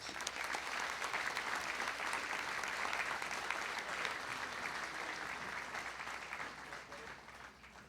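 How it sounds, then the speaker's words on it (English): Audience applause at a county junior fair royalty contest and opening ceremony, a sustained, even wash of many hands clapping for eight seconds, gradually easing off near the end. "let's give him a round of applause"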